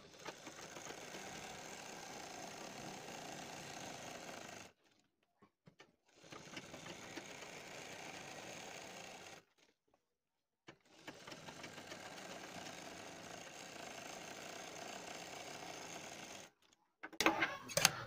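Sewing machine stitching the neck of a kurti, three long runs of steady close mechanical whirring separated by short silences, with a brief clatter at the end.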